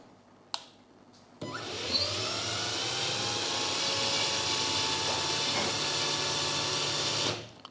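A Dongcheng DCPL208 impact driver spins up at its low speed setting and runs as a steady, close whine for about six seconds. A couple of faint clicks come before it starts, and it stops abruptly at the end.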